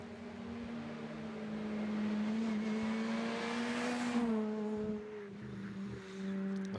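Ford Fiesta R2 rally car in the RC4 category at the Spa Rally, its engine note climbing and shifting as it drives past at a moderate distance, tonal revs rising then dropping and fading.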